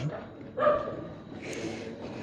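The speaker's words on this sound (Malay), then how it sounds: "Okey, bunyi anjing kan." A dog barks once fairly close, then a brief whimpering yelp follows, set against room noise and murmuring voices.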